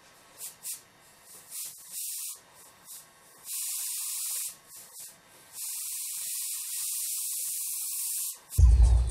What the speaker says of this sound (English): you still want to be careful and spray lightly and evenly.